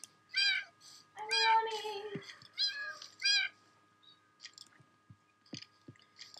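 Many kittens meowing in a video game, a burst of several high, overlapping mews close up, followed by scattered small clicks and faint sounds.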